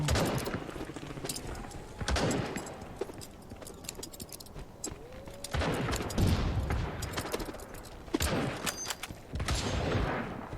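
Rapid bursts of video-game gunfire, repeated volleys and single shots scattered across the stretch, fairly close and loud with no talk over them.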